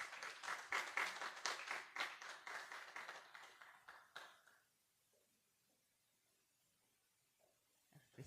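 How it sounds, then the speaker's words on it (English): An audience claps warmly to welcome a panelist at a summit, a dense burst of applause that tapers off and fades into near silence after about four seconds. "Let's welcome her with a clap."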